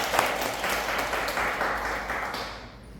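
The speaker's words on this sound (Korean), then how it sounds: "박수." Steady applause fills a conference room at a Lions Club forum and inauguration ceremony, a dense wash of many clapping hands that holds evenly and then fades toward the end.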